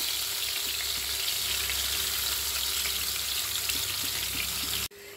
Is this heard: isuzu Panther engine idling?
no